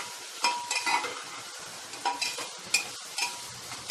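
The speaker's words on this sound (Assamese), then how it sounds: "লৰাই থাকিম" A spoon stirs and scrapes through khichdi cooking with ginger paste and split green chillies in a pot, soft sizzling under irregular clinks and scrapes, quiet and close, with no talking.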